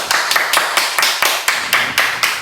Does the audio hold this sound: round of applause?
yes